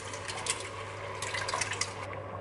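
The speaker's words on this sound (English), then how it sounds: "I'm going to add just a scoop of tomato paste, and then 2 cans of diced tomatoes" Tomato paste and two cans of diced tomatoes pour into a pot of lentil bolognese sauce, a soft, wet sloshing and splattering that runs steadily with a few sharper plops, fairly quiet and close.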